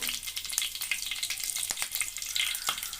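Cut green chillies spit and crackle in a little hot oil while stuffed brinjal curry is cooked, with faint scattered pops and soft sizzling over a quiet kitchen background.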